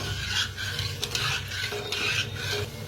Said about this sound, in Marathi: तर आता हलवून घेऊया।